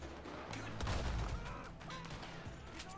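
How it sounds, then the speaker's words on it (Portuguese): Gunfire from a video game shootout crackles in quick, overlapping bursts, held at a fairly low, steady level throughout. "É só bala cruzando."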